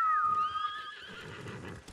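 A horse whinnies loudly and close at the start, its call fading out over the first second against a soft background rustle and faint hoof movement, in a Ghost of Tsushima game scene.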